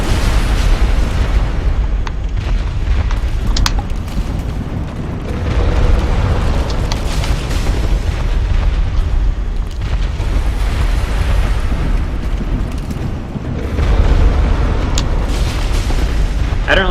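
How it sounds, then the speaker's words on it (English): Heavy boss explosion attacks from Dark Souls roll out as loud, dense booms and rumbling bursts, one after another, filling the whole stretch with only brief dips between blasts. "he likes these big explosion attacks"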